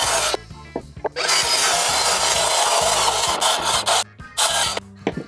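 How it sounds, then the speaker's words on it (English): A saw with a very dull blade grinds roughly through LED strips in a loud, harsh, continuous rasp. The cut runs for several seconds with brief stops and restarts. "let's see how we do with my very dull saw blade here"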